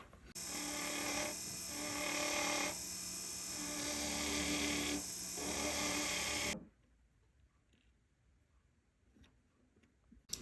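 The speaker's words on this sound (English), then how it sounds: "I'm going to remove those with burrs" A rotary burr grinds solder and prong blobs off an antique ring, a loud steady high whine with brief pauses and pitch shifts, running about six seconds before cutting out to near silence.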